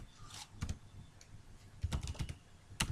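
Someone types code on a computer keyboard, giving quiet, irregular clusters of close key clicks with short pauses between bursts and no talking.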